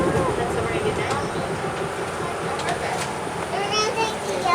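The Mount Washington cog railway train rumbles steadily and close by at the summit, a continuous mechanical roar with children's voices and chatter mixed in throughout.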